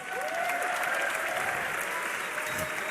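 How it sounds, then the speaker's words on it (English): Esports crowd at the Dreamhack Winter 2012 semifinals applauds and cheers in a large hall, a loud, dense wash of clapping that holds steady for three seconds, with a faint tone and a trace of voices beneath. "Give yourselves a round of applause."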